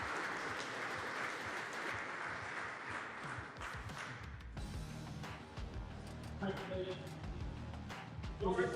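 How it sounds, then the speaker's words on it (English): An audience applauds the junior competitors at an Irish regional bricklaying competition, with dense clapping for about four seconds that fades as people talk. "So huge round of applause for all of the juniors that competed."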